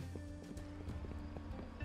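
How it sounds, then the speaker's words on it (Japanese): Footsteps from an AI character in the video game Rust, in a dark setting, come as a quick run of soft thuds under a constant low rumble of background game noise. "AI の足音もしますね"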